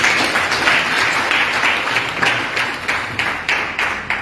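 A crowd applauds at a district road safety promotion function, dense steady clapping that fills the whole stretch at close range with no talk over it.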